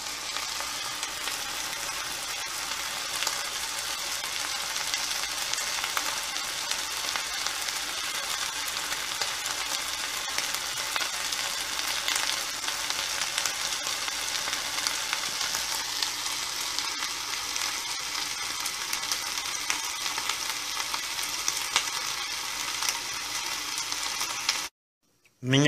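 Ground beef sizzles and fries in a cast iron pan, a steady crackling hiss that runs on quietly and evenly before cutting off abruptly at the end.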